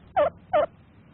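A rescued turkey gobbles twice in quick succession, two loud, close, evenly spaced calls over a quiet background.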